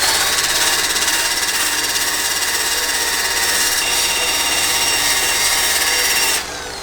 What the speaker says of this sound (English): So I got the buffer with a 6-inch pad with a 40 grit disc on it.